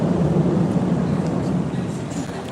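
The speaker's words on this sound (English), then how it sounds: "you can hear the trains rolling by above ground" Trains rolling overhead at Sannomiya station in Kobe, heard from street level at night as a continuous low rumble and rattle that fills the clip and eases slightly toward the end.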